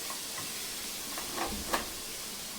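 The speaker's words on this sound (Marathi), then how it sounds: "तूप वितळले आता आपण हा दुधी याच्यामध्ये टाकून घेऊया" Chunks of bottle gourd drop into melted ghee in a pan over a low flame, setting off a steady soft sizzle with a couple of brief clinks near the end, no voices.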